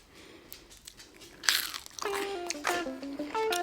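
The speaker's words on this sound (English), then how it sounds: "Did y'all hear that crunch?" Biting into a crispy homemade carnivore chicken tender dipped in sauce gives a sharp, close crunch, followed by loud crackling chewing with scattered crisp snaps.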